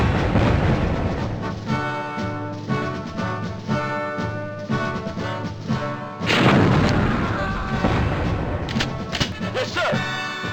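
Grenades go off in the 1998 PC game Army Men, heavy booming blasts layered over dense, loud game music and effects. One strong burst lands about midway.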